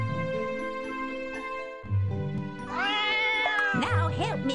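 Cartoonish cat meows from the video game Super Granny Winter Wonderland, several short rising-and-falling mews in succession over a steady, bouncy game music loop, clear and close.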